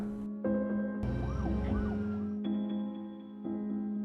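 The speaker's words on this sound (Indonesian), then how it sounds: "suara sirine polisi terdengar" A loud wailing police siren cycling through rising and falling tones, with steady engine hum beneath and shifting pitches as it continues.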